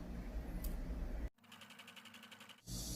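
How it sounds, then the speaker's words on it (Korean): A sewing machine stitches the inner neckline seam of a summer blouse, a short burst of quick, even mechanical ticking set between louder stretches of room noise. "목 안쪽 선 박음질 하도록 하겠습니다."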